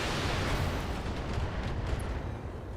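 A BattleTech mech unleashes a salvo of LRM missiles, a dense, continuous roar of launches and blasts rumbling loud and close for the whole stretch with no pause.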